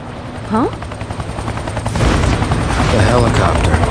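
A helicopter in the game XIII whirs loudly amid gunfire and booms on Brighton Beach, with a voice speaking briefly near the start as the rotor noise and shooting build over a few seconds.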